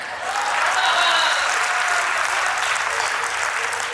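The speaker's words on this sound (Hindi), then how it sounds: "और ताली को इस बात पे बजा देना" Loud, dense audience applause fills the hall at a Diwali festival gathering of a Jain social group in Gwalior, swelling quickly and holding steady for several seconds.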